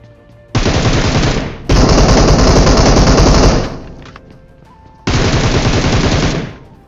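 Loud, rapid automatic gunfire in a battle royale game comes in three long sustained bursts with brief gaps between them, close and dense.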